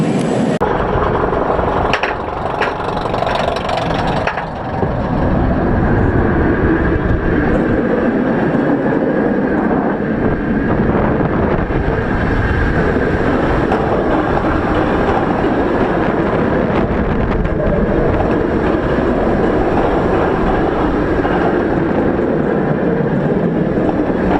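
A fast amusement-park roller coaster rushes along its track with a loud, sustained jet-like roar and rumble, steady and close, with a sharper rattle in the first few seconds.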